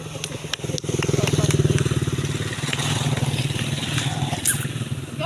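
A motorcycle engine rumbles past nearby with a pulsing, throbbing drone that swells and then fades, mixed with clattering sounds and people talking.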